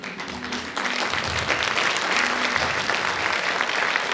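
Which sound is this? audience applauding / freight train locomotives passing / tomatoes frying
audience applauding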